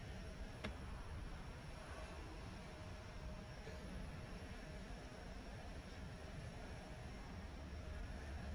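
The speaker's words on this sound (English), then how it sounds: "Here goes Qantas 776 off to Melbourne." A Qantas airliner taking off from Perth airport, heard as a steady, distant broadband engine roar that holds evenly throughout with no voices.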